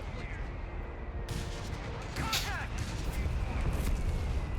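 Mortar and artillery fire in Company of Heroes 3 battle, a rumbling barrage of booms and sharp blasts under continuous game noise, fairly faint, with a commentator talking over it.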